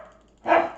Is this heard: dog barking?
yes